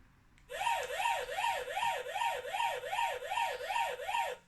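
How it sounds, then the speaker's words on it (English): A warbling electronic Pac-Man game sound from a novelty cola-can cupboard, rising and falling in a fast, even cycle like a retro arcade siren, loud and steady throughout. "it plays music and sounds from your favourite Pac-Man game"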